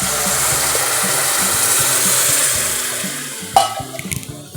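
Buttermilk is poured into a hot pan of fried green chili and ginger for majjiga chaaru, giving a steady close sizzle and wash of liquid that ends in a few sharp clinks and splashes.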